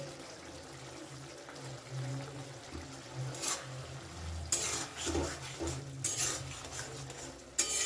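A spoon stirs ground fried bori and nuts into bitter gourd chorchori in a pan, soft scraping and clinks over a low sizzle, with a few sharper utensil knocks later on.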